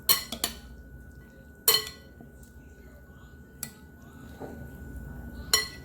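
Ceviche is stirred with lemon juice in a bowl: a utensil clinks sharply against the dish a few times, separated by quiet soft mixing and wet scraping.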